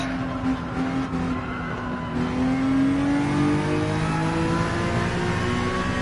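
A GR3 race car engine in Gran Turismo 7 drones loud and steady under throttle, its pitch climbing smoothly as it accelerates, alone with no talk.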